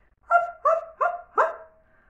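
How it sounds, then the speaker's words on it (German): A dog barks four times in a quick, even series, close and clear against a quiet background, the last bark trailing off into a short whine. "Lilly ist ein Hund."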